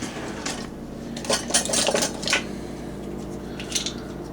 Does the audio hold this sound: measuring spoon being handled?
yes